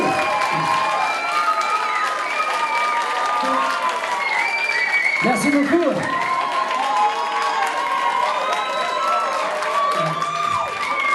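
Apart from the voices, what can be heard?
audience applause and cheering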